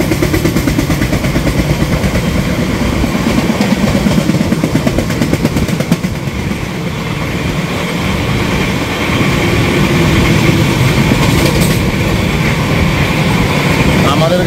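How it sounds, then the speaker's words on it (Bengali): The weekly 13135 Kolkata–Jaynagar express, heard from a 3AC coach, pulls into Bardhaman station with a loud, steady heavy-engine drone and a fast rhythmic pulse underneath throughout. "আমাদের গাড়ি এখন বর্ধমান ঢুকছে"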